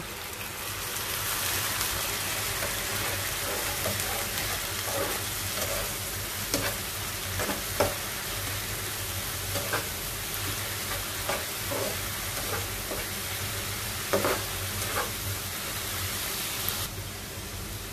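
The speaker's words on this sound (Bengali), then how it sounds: "পেঁয়াজটা একটু ভাজা হয়ে আসলে একটু আদা রসুনের পেস্ট দিয়ে দিব" Chopped onion fries in a pan with ginger garlic paste, giving a dense, even sizzle like hard rain that runs unbroken for many seconds, with faint scraping and pops on top and no talking.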